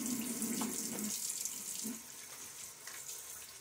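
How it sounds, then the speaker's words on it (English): A tap runs steadily into a sink during a wet shave, a continuous close hiss of flowing water with slight changes in splash, with no talking over it. "a little splash of water."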